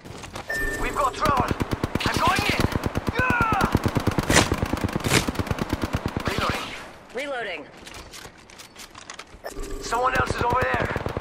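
Rapid machine-gun fire in the Apex Legends shooter game, long bursts of closely spaced shots broken by short gaps, with voices talking over and between the bursts.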